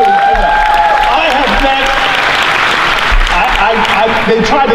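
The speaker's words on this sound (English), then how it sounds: "Give yourself a round of applause, please." A crowd breaks into loud, sustained applause with scattered cheers, clapping densely for several seconds.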